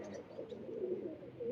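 A pigeon, one of several bred for high flying, gives a soft, low, continuous cooing at close range.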